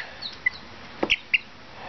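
Molting young chickens on an off-grid homestead give a few short, sharp chirps and clucks, close and isolated, over quiet background hiss.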